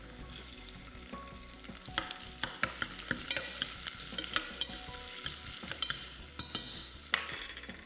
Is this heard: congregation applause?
no